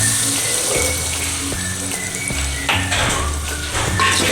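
Kantola and onion curry frying in a pan after garlic chutney goes in, a steady wet sizzle with scraping and stirring clinks against the pot throughout.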